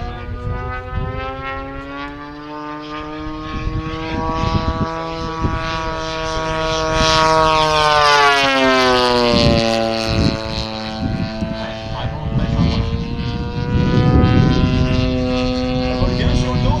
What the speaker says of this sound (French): Le moteur fait vraiment comme à l'époque, un bruit infernal